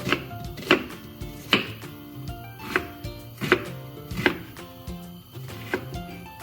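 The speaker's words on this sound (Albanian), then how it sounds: "Vrim qepin." Knife chopping onion on a board for red lentil soup, a steady series of crisp, close, moderately loud strokes about every 0.7 seconds, with no talking.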